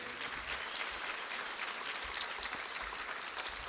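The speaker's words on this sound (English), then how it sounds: "Let's give a round of applause to our 2013 Harvest Holidays Grand Marshals." A distant audience at the 2013 Harvest Holidays Queen Show claps steadily for the Grand Marshals, a faint, even patter of applause with one sharp click partway through.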